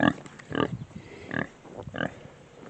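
Pigs on a farm grunting in three short bursts, close and fairly loud, with quieter snuffling between them.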